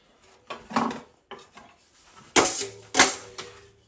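A 10-inch taping knife scrapes joint compound off a wall in several short, rasping strokes, each a crisp, close swipe separated by brief pauses.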